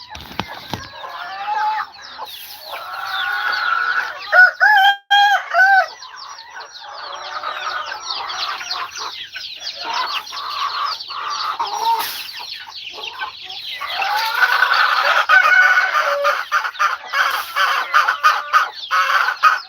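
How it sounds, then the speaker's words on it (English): Chicks in a farm pen clucking and cheeping busily as they are given cornmeal feed, a dense, overlapping chorus of bird calls, loud and close, swelling toward the end. "we're gonna give some of these chicks some feed"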